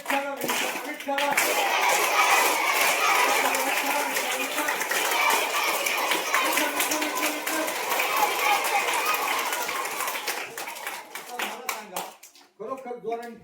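A crowd of schoolchildren and adults at a Marathi school gathering claps loudly in a long, dense rhythmic roll, with voices mixed underneath, before it breaks up into scattered claps and then stops.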